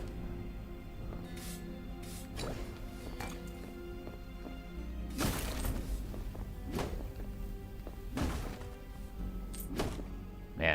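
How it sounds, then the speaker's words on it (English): Wooden boxes being smashed with a sword in the game Bonehold, a series of separate heavy thunks and cracking impacts spaced a second or two apart over a low game background, a few louder bursts standing out. "Man, it's hard to break these boxes."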